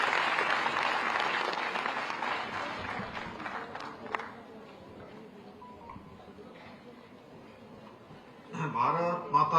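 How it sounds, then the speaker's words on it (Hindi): A crowd at a World Minority Rights Day event in Dehradun claps in welcome, starting as loud, dense applause and gradually thinning over several seconds, before a voice speaks near the end. "सभी तालियों संग स्वागत।"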